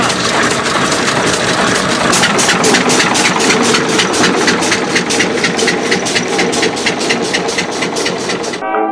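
A Curved Dash Oldsmobile from around 1905 runs with a loud, steady, rapid chugging beat, close and unbroken for several seconds before cutting off abruptly.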